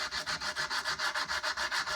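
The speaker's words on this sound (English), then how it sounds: "So now I'm just beginning to sand down the edges here." Hand sanding the edges of a wooden plaque with 100 grit sandpaper, a steady run of about a dozen even back-and-forth rasping strokes, close and alone with no talk.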